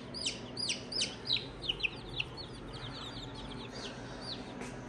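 A baby chick gives a series of high, thin peeps, several quick ones at first and then fainter ones over a soft background hum.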